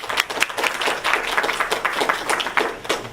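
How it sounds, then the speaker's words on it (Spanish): An audience claps for a jellyfish researcher about to give a science talk. The clapping is modest and uneven, with distinct individual claps rising and falling over three seconds. "Un fuerte aplauso, por favor."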